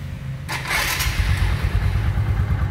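Used motorbike engine started up, a brief whirring crank followed by a steady, close, low idling rumble that keeps running.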